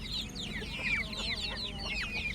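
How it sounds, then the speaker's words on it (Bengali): Brahma chicken chicks clucking and peeping in close, rapid overlapping chirps at a farm after rain, a steady busy chorus with no talk. "এদিকে ব্রাহ্মা মুরগির বাচ্চাগুলো দেখুন মাশাআল্লাহ।"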